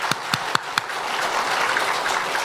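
Congregation in a church applauding together, beginning with a few separate claps and then settling into a steady, dense wash of clapping with no voices on top.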